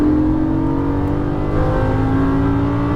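A Lamborghini Gallardo accelerating in Las Vegas gives a loud, close, steady engine drone that climbs slightly in pitch toward the end.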